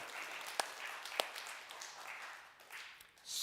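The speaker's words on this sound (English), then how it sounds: "Let's clap for that." A church audience claps, a faint, thin patter of applause in a room with a couple of sharper individual claps, swelling slightly at the very end.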